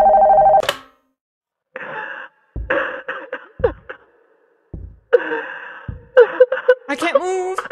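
A telephone rings in the horror game Nocturnal Visit: a loud electronic ring bursts at the start, then gives way to sighs, gasps and other voice sounds with faint synthetic tones.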